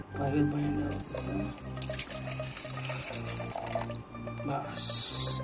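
Water gushes out of an opened pipe line during a plumbing repair, a steady splashing flow like a running tap, heard close up under a voice speaking, with a sharp hissing burst near the end.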